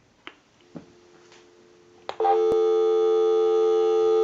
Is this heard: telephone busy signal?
yes